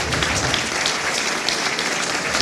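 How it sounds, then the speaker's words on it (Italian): Dense, sustained applause from an audience at a mayoral candidates' debate in Bussolengo, Italy, many hands clapping loudly and evenly with no speech over it. "facciamogli un applauso visto che insomma sono loro in lizza"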